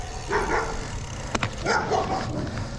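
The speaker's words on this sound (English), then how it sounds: "Oh, and really angry dogs." Angry dogs barking in a neighborhood yard where turkeys and peacocks or roosters roam, a few short bark bursts at a moderate distance under steady background noise.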